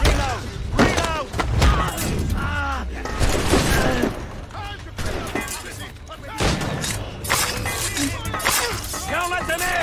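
Musket and cannon volleys crack and boom repeatedly in an Assassin's Creed Rogue battle, loud and dense, with shouted voices and clattering effects layered throughout.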